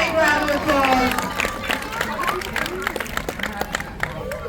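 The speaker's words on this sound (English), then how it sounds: "Can we all give her a big round of applause?" Scattered applause and clapping from a crowd at a zoo sea lion show, mixed with murmuring voices and children's chatter, fading over a few seconds.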